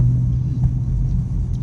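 A catless RT car's engine rumbles low and heavy on a rainy road, a deep steady drone heard from inside the car without any voices.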